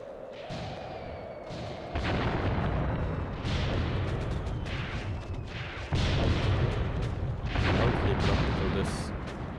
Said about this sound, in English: Here we see them working. Mortars impacting.